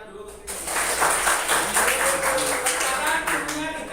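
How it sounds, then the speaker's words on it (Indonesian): A group claps hands together during an indoor activity: a steady dense patter of clapping lasts several seconds at fairly close range, with faint voices mixed in. "Oke, tepuk tangan dulu ke sini."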